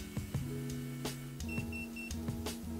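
An electric hair straightener gives a series of short, faint electronic beeps in a quiet room, spaced irregularly over a low steady hum.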